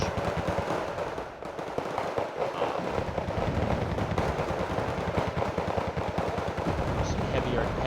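Heavy explosions and rapid gunfire crash together without letup in a jungle battle in the video game LAW, mortars and artillery pounding a town, loud and dense throughout with no voices.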